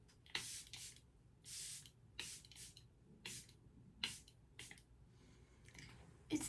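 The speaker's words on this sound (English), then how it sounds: "I top it with my Charlotte Tilbury Airbrush Flawless Setting Spray" Charlotte Tilbury Airbrush Flawless Setting Spray being misted from its bottle, a series of about eight short, close hissing bursts in uneven rhythm with quiet gaps between, no voices.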